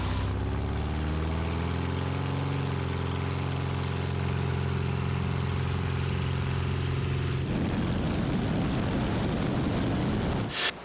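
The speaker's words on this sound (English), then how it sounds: "ready for takeoff" The engine of a small experimental airplane throttles up for takeoff with a loud, steady propeller drone that shifts into a broader roar partway through and holds without pause.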